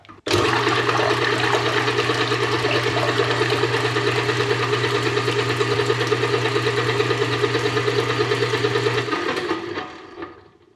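An electric mixer whips a mixture into foam at medium speed, a loud, steady motor whir with a low hum for about nine seconds before winding down, with no talk.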